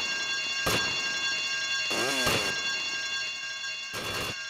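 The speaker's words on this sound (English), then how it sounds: "I told you not to touch that alarm!" An alarm rings in a Grand Theft Auto mission, sounding as repeated loud electronic bursts over steady background game noise.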